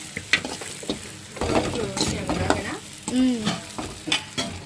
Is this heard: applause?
no